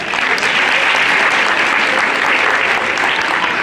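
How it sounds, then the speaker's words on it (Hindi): Audience at a college mini marathon event claps loudly for itself, a thick, sustained burst of applause that stays even throughout. "आप सब अपने लिए एक बार जोरदार ताली बजाएं"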